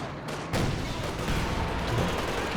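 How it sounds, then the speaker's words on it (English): A Katyusha rocket barrage in Company of Heroes 2 roars as a loud, dense wall of launches and impacts, swelling after a brief lull and rumbling on without a break. "Here comes the Katyusha now."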